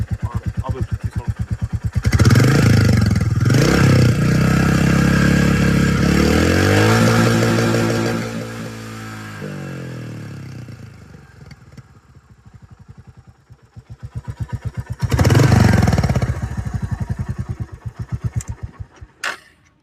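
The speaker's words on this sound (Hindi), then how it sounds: "तो अब मैं इसका एक्सेलरेशन करता हूँ, रेस देता हूँ और अब अच्छी साउंड।" A Royal Enfield Meteor 350 single-cylinder motorcycle, about 35,000 km on it, revs up loudly from idle in two strong bursts, the pitch climbing and falling back to a steady thumping idle between them, close to the microphone with no talk.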